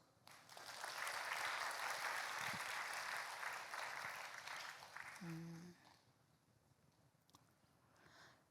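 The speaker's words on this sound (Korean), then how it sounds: "박수" A church congregation bursts into applause, a dense wash of clapping that holds for several seconds and then fades out, leaving the room quiet with a brief low sound near the end.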